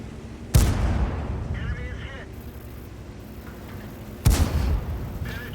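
Artillery shells striking the ground in World of Tanks, two heavy booming impacts a few seconds apart, each followed by a rumbling decay, with someone talking in between.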